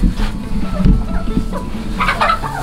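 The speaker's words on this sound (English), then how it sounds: "I think I got three roosters and two hens." Roosters and hens in a coop stirred up and clucking, a busy close flock of fowl calls with scattered squawks throughout, brief sharper calls rising near the end.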